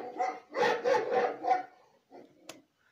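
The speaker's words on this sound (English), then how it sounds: "Yes, it's a dog." Dog barking in a children's animal-sounds lesson, a quick run of four close, fairly loud barks, then a softer bark and a short sharp sound.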